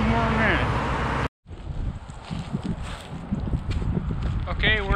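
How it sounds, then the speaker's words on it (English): Strong wind gusts roar against the microphone outdoors on a wilderness trail, a steady rumbling buffet filling the scene, with a person's voice speaking briefly at the start and again near the end. "the wind has really picked up"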